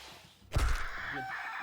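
Pigeon noise in the survival game 7 Days to Die, a sudden thump followed by a short fowl-like squawking call with a rough, groaning tone, close and fairly loud after a quiet start.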